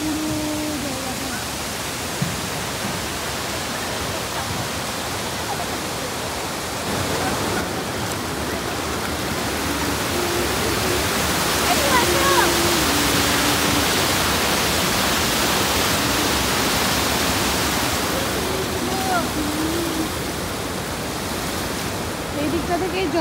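Krangshuri waterfall in Meghalaya roars as a constant, loud wash of falling water, dense and unbroken from near by, with faint voices occasionally rising above it.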